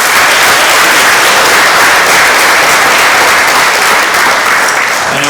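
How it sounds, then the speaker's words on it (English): A school awards ceremony crowd claps for the Athletic Hall of Fame inductees, producing dense, steady applause that stays loud and sustained from start to finish with no talk over it. "Can we give them another round of applause?"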